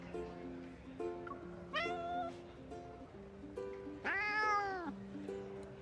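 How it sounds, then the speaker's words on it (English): Cats meow in the video game Love and Deepspace, a series of close, drawn-out meows with one long rising-and-falling cry near the end, over a soft game music backdrop. "I follow the sound to find Xavier behind a cat tree confronting an unfamiliar kitty."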